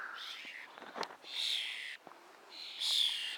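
Birds in a cemetery give harsh, hissing screeches in repeated drawn-out bursts, close and fairly loud, with small clicks and rustles between the calls.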